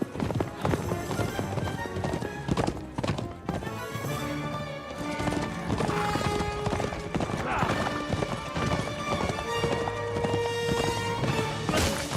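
A horse gallops in the video game Kingdom Come Deliverance 2, its rapid hoofbeats clopping steadily and close throughout, layered with music and other game sounds.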